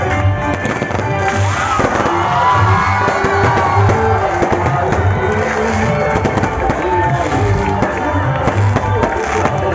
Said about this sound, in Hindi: इमरान खान की आमद पे लाहौर के इलाके धर्मपुरा में जलसा गाह में खूबसूरत आतिशबाजी का नज़ारा